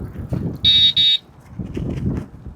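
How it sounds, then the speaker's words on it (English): A bicycle horn on Jekyll Island sounds two loud, bright electronic beeps in quick succession over a low, steady background rumble. "Horns work."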